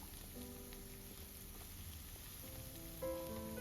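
Onions sizzle in heated oil in a home kitchen pan, a soft, steady crackling hiss that runs continuously and fairly faintly, with no talking.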